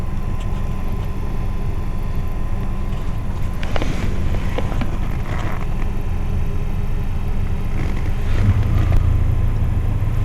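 The HVAC blower motor in a 2010 Toyota Tacoma makes a steady loud whooshing drone with a low rumble, heard close up inside the truck with no talk.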